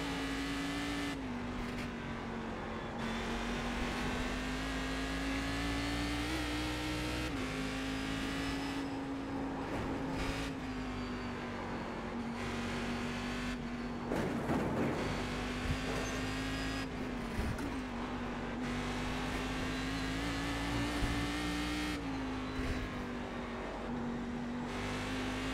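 Cadillac CTS-V racing car engine in a racing video game, a steady droning high-revving note that rises and dips through gear changes and corners, loud and continuous with brief shifts in pitch.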